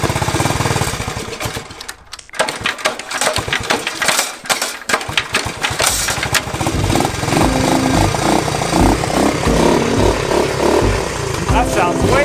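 A 40-year-old, barn-stored Honda Trail 90 motorcycle running just after a kick start, its small engine loud and close with rapid chattering pulses, a brief dip early on, then a steady uneven putter while people talk.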